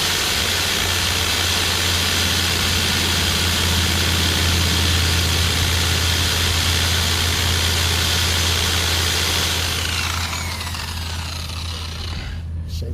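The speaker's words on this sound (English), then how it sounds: "Turn your RPMs up so it'll sling all the rest out of it." Pad washer spinning a polishing pad dry at high RPM, a loud, steady, close motor whir with a hard mechanical rattle that eases as it winds down near the end, with no talking.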